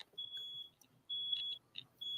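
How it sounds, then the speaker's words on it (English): A high-pitched electronic alarm beeps in long, steady tones separated by short gaps, sounding from a distance with faint room noise between. "Upstairs, the smoke alarm is going off."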